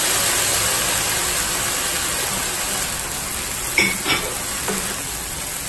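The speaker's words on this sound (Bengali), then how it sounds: "এই সবগুলো উপকরণ একসাথে মিশিয়ে নেড়ে চেড়ে তারপর এর মধ্যে দিয়ে দিব লেমন জুস।" Lemon fried rice ingredients sizzle steadily in a frying pan, with a few scraping stirs of a spatula near the end over a constant hiss.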